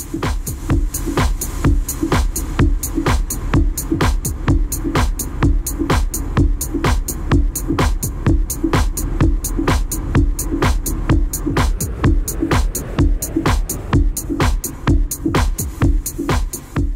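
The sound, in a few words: synth beat with lush warm reverb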